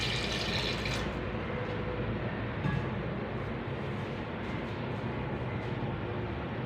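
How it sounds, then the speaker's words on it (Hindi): Two glasses of water pour into a cooking pot holding crushed ginger and garlic for matar gosht: a steady, rushing splash that runs for several seconds at moderate level, with no speech. "यहाँ पे पानी डालेंगे 2 गिलास।"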